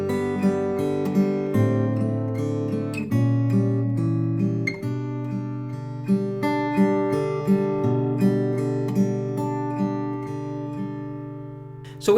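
Fingerpicked chord arpeggios on a classical guitar, with the thumb plucking the bass note under repeating plucked upper strings, sounding as a clear, even, ringing pattern played close and alone.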